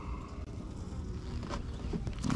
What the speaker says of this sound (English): this thing is packed full of bees